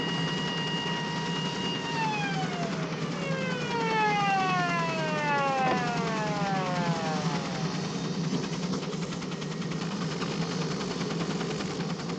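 An ambulance siren wails with sliding, falling tones over a steady engine hum, sustained and fairly loud throughout, from a 1975 French crime film.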